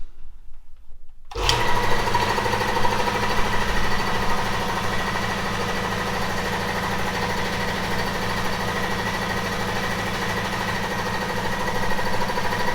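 New Kobalt 60-gallon air compressor in a garage starting up after a quiet moment, then running steadily with a rapid mechanical chatter and hum, close and unloaded, no talk.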